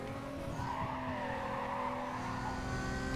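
Race cars in Need for Speed Carbon, including a 350 and a Lamborghini, skid with sustained tire squeal over a steady engine drone, loud and continuous.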